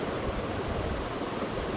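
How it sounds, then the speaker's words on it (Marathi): An open kitchen tap runs steadily, giving a constant, even rushing hiss of flowing water with no breaks or voices. "नळ चालू करून ठेवला आहे ना"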